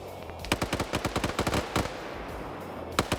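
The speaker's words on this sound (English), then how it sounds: "He's drawing some fire from a PKM." Bursts of PKM machine gun fire in a Vietnam-era combat video game, a rapid rhythmic string of loud shots followed by a pause and a couple of further cracks.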